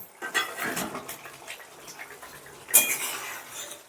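Eggs being stirred into a masala gravy in a pan, giving soft intermittent scraping and clinking of a utensil against the pan, with a louder clatter near the end.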